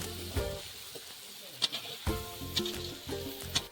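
Slit green chilies go into a chicken curry frying in a pan, giving a soft, quiet sizzle broken by several sharp scrapes and clinks of stirring.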